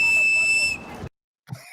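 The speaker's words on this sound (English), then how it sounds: "Sitting up there blowing that whistle." A protester at a street protest blows a shrill, steady whistle blast of under a second. It cuts off abruptly, and after a short silence faint crowd noise and voices return.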